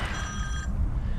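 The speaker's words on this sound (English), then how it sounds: "That's the phone." A telephone rings close by with a bright electronic trill on a riverside sea-fishing trip for cod on the Humber, cutting off partway with no talking over it.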